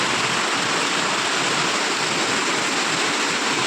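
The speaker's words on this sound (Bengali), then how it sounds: "তোমরা টিনের আওয়াজ শুনে বুঝতে পারবে কতটা জোরে হচ্ছে বৃষ্টিটা" Heavy rain drums on a tin roof in a loud, continuous, dense hiss with no pauses and no voices.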